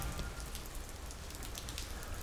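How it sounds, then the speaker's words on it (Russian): Steady winter rain falling and pattering on surfaces, an even, dense hiss of drops throughout with no voices. "что этот дождь особенный."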